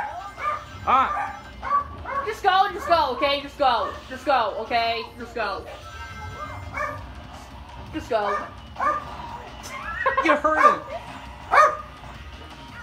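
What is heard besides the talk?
dog barking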